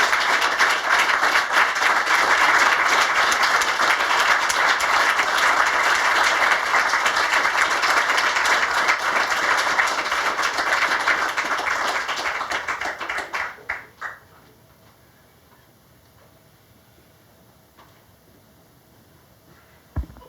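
Audience applause after a spoken word poetry performance, a sustained, dense burst of many hands clapping that holds steady before tapering off and dying into near silence.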